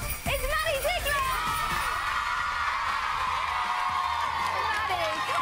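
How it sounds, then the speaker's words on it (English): A studio audience on a children's TV show cheers wildly, with a loud continuous roar of whoops and screams that runs straight through, mixed with voices. "the crowd have gone wild"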